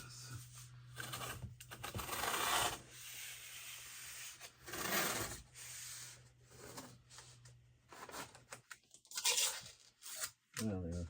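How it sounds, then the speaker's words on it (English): Regular masking tape is pulled, torn and rubbed down onto a sign being made, close scraping and ripping in irregular bursts with pauses between them. "I'll just use regular masking tape"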